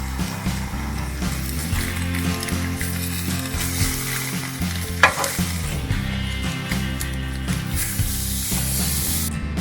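Salmon frying in a pan at a campsite in southern Utah, a continuous close sizzle and spatter with small stirring or scraping noises, no talk.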